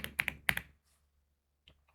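Typing on a computer keyboard while installing Python for a software setup: a quick burst of about five close, crisp key clicks, then silence and one faint final tap.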